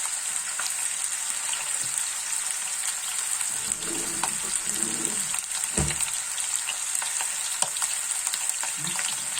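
Rabbit pieces brown in a hot frying pan with a steady, bright sizzle, while a few soft scrapes and clinks of stirring or turning come through the frying noise. No one speaks.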